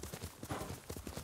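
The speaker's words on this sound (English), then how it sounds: "I can get up here with my horse" Horse hooves gallop in Ghost of Tsushima, a quick steady rhythm of soft thudding hoofbeats that runs the whole short stretch at a faint level.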